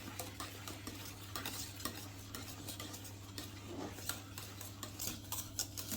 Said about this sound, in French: Vous les mélangez avec la maryse ou le fouet, mais vraiment délicatement.